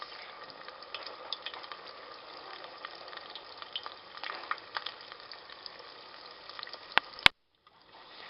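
Chinese egg rolls cook in a pot of hot liquid, giving a soft, steady bubbling sizzle with faint scattered pops, quiet and close. It ends in a couple of sharp clicks and a brief silence.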